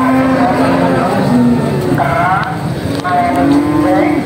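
Young Simmental cross calves and cattle lowing loudly and repeatedly at a livestock market, several drawn-out moos overlapping close by against a busy background.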